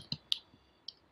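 Several separate key clicks on a computer keyboard while a search address is entered, four crisp taps spaced irregularly with quiet gaps between, close and fairly soft.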